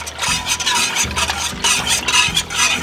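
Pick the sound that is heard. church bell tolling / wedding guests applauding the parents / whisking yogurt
whisking yogurt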